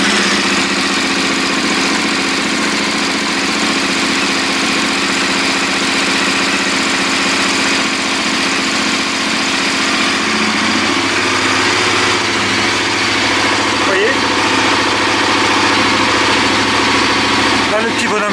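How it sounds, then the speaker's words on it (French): A KTM Adventure motorcycle engine idles steadily and loudly up close, with an even mechanical hum and vibration that holds without pause from start to finish. "je vais démarrer la moto"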